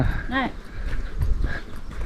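Horse on King Island, Tasmania, with a short whinny-like neigh early on, followed by faint hoof clops against steady outdoor wind and background noise, while people talk nearby.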